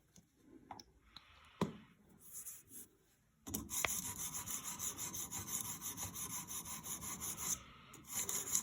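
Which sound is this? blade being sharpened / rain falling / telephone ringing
blade being sharpened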